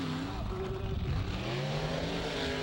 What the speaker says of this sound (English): Nitemare and the big burnout, just throwing up dust and dirt everywhere